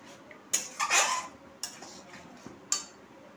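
Chicken curry with vinegar, lemon and yogurt being stirred and worked in a pan, a few distinct clinks and scrapes of a utensil against metal over quiet background.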